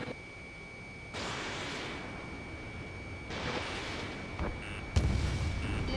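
Missiles launch in an Ace Combat 7 jet dogfight, each a whooshing rush of sound over steady engine hum and a constant warning tone, with bursts arriving in several separate waves.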